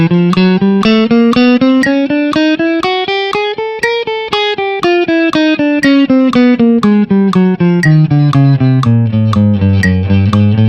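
Technique exercise played in steady eighth notes, a loud, buzzy, distorted-sounding tone rising and then falling in pitch, with evenly spaced notes in a continuous run and no talk.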